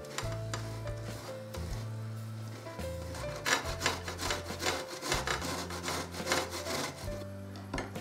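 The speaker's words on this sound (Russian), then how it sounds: "Очищенный картофель и морковь отдельно натру на крупной терке." Peeled potatoes and carrots are rubbed against a coarse grater, making repeated scraping, rasping strokes that come in quick runs. Steady background music plays throughout.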